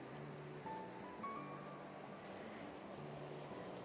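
Lost Horse Creek in Bitterroot National Forest near Darby gives off a steady, soft rush of flowing water. The wash is even and continuous with a breezy hiss, and there is no talk.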